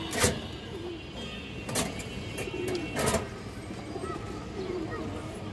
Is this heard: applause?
no